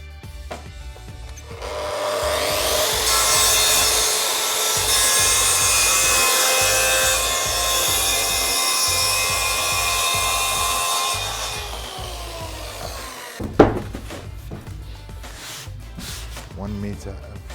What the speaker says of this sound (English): now what we're doing, we're cutting our MDF, ready to slot into our paneling